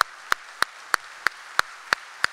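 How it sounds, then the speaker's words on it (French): Steady rhythmic clapping at a party congress, sharp even claps about three per second, evenly spaced and moderately loud, with no talk over them. "je vous demande vraiment un tonnerre d'applaudissements"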